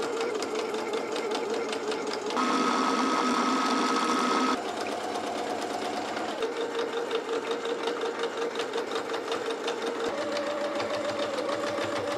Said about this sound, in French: Donc je vais commencer à coudre ça et à assembler mes poignées de manches